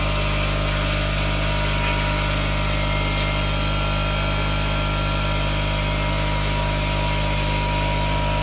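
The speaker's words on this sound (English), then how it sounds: "And of course the compressor comes on every time you're doing a video" An air compressor runs continuously nearby with a loud, steady mechanical drone and a constant low hum throughout, with no pauses.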